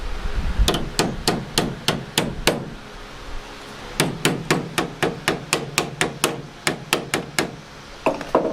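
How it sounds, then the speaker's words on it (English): Sharp, ringing hammer blows on the rusty door post of a 1993 Ford Mustang GT Foxbody, struck close and loud in quick regular runs of about eight to eleven hits separated by short pauses. "That's Mr. Hammer."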